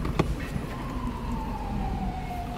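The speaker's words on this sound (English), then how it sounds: "that wasn't a police siren, that was an ambulance" An ambulance siren wails faintly in the distance, its tone sliding slowly downward over steady traffic and road rumble.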